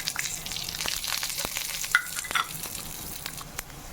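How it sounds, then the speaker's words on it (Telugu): Dried red chillies and tempering spices crackle and sizzle in hot oil in a pan, a soft continuous fry broken by scattered sharp pops and a couple of brief clinks. "ఆయిల్ కాగింది కదా, ఎండుమిరపకాయలు వేసుకుందాము. ఇప్పుడు పోపు దినుసులు కూడా వేసుకుందాము"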